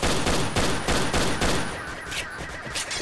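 Loud, dense gunfire in the shooter game Point Blank, rapid bursts of shots close up in a steady rhythm that thin out into scattered shots toward the end.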